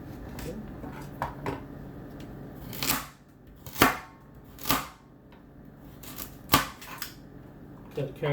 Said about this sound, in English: Cut the carrots in the rings.